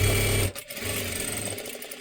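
A sewing machine stitching blouse cloth, a steady close whirring run that stops briefly and restarts at a slightly lower pitch.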